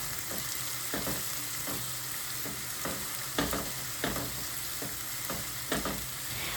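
Onion and crushed garlic frying in hot oil with mustard, a constant close hiss of sizzling broken by regular scraping stirs of a spoon against the pan, alone without voices.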